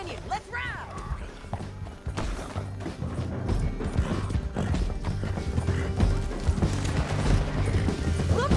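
Hoofbeats from a horse in the video game Red Dead Redemption II clip-clop steadily along with a whinny, under game voices and speech.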